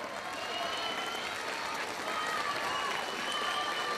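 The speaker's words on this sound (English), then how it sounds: "Je crois qu'on peut les applaudir plus fort encore." Sustained crowd applause for cyclo-cross World Cup podium riders in Nommay, France, an even wash of clapping outdoors with faint voices and tones mixed in.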